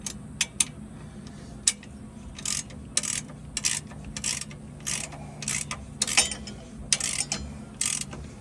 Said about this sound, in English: Now we can come back